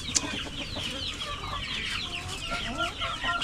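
A Darag native rooster clucks on a farm, making close, repeated throaty clucks and squawks in an uneven run against a steady outdoor background.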